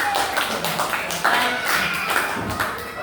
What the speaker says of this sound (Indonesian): Yuk beri tepuk tangan dulu buat kelompok 4